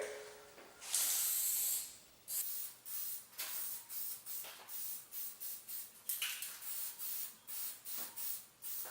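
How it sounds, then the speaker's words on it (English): A spray paint can laying a coat over sanded plug areas on a countertop, one long close hissing burst followed by a rhythmic run of short, even spray bursts. "gonna spray one coat to start over top of the area that I sanded where the plugs are"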